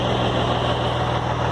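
A Ford car engine runs steadily up close, a loud continuous low rumble with even throbbing pulses and no pause, heard alone with no voices.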